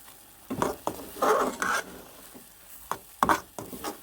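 Carrot halwa stirred and roasted in a pan, giving repeated scraping, stirring strokes with short bursts of sizzle in an uneven rhythm, close and fairly loud, with no voices.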